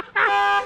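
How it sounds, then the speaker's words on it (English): A homemade car alarm horn blares in one steady buzzy tone for about half a second, loud and close, then cuts off. "It's a homemade car alarm."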